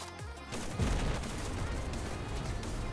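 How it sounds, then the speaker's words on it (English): Sustained machine gun fire rattles through a World War II battle in Tunisia, loud and continuous after a brief lead-in, with dense overlapping bursts and booms filling the scene. "Machine gun gameplay?"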